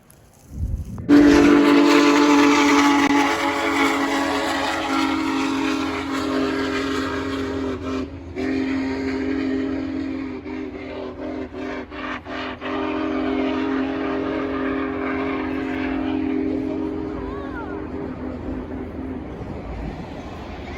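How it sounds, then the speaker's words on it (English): A locomotive passes with a loud, sustained horn blast lasting most of the time, steady and close, with rumbling rail noise underneath that trails off as the train moves on. "That's a locomotive."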